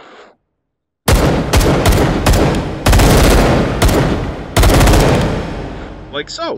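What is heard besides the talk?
full-auto gunfire from a bullpup rifle in the video game H3VR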